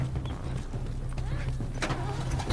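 A car engine in the video game The Last of Us cranks and coughs to life, a rough rattling turnover that stays loud and continuous across the whole stretch.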